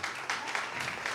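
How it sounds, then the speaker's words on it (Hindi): Applause for a child at a Resurrection Day prize distribution for children, a brief burst of steady clapping from a crowd, fairly close and continuous throughout. "जोरदार तालियां बच्चे के लिए जल्दी।"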